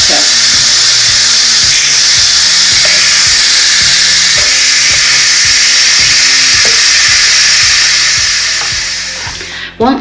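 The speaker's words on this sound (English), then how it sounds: "it's time to release the pressure inside" Steam jetting from an Instant Pot pressure cooker's release valve, a loud, continuous hiss sustained for several seconds with a regular ticking pulse underneath, fading briefly at the end.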